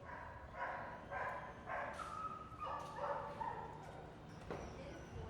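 Dogs at a kennel club bark and yip in short repeated bursts, fairly close, over a busy background murmur with some voices nearby.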